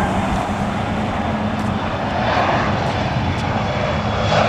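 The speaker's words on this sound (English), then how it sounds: "Got a plane taking off." A jet airplane taking off from a runway at LAX, its engines producing a loud, sustained broadband roar heard from a distance, with no voices over it.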